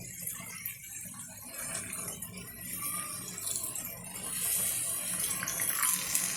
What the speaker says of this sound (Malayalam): ഇനി ഇതിലോട്ട് നമുക്ക് ഒരൽപ്പം വെള്ളം ഒഴിക്കാം